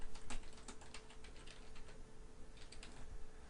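Rapid, uneven keystrokes patter on a computer keyboard, close and fairly even in level, with no talking, as arbitrary text is typed into a document.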